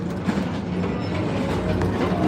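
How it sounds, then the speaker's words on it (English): The Magic Kingdom express train rolls along its rails at Disney's Magic Kingdom with a steady, close rumble and faint clacking, continuous throughout the short stretch. "your express train keeps on rolling"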